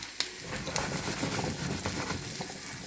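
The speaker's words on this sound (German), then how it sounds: "in diese Butter werde ich, wenn sie dann richtig heiß ist, den Spargel geben und den erstmal kurz anbraten." Asparagus fries in hot butter in a pan with a steady, close crackling sizzle and a few sharper pops. Nobody speaks over it.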